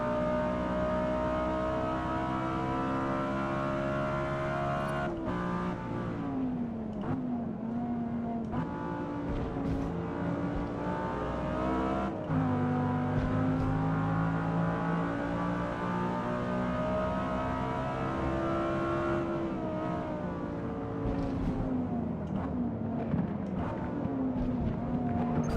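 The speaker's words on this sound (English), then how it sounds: "it's a twin-turbo V8" A twin-turbo V8 BMW M6 race car in Gran Turismo 7 revs hard, its engine note climbing and dropping repeatedly through shifts, loud and continuous.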